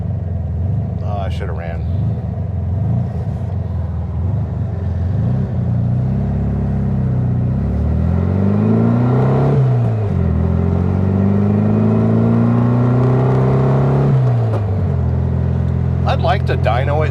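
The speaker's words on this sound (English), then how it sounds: "I'm bumping the idle because my oil pressure is low when it's hot." A car engine with its idle raised to compensate for low hot oil pressure, revving in rising and falling sweeps over a steady rumble, with someone talking over it throughout.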